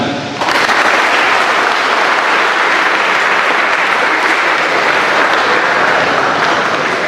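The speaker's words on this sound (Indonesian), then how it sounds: "Tepuk tangan." Sustained applause from the audience at a school student-council installation ceremony, starting abruptly and continuing loud and steady throughout, dense clapping filling the hall.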